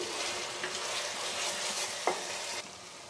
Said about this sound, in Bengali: মিডিয়াম টু লো ফ্লেমে মশলা কষাচ্ছি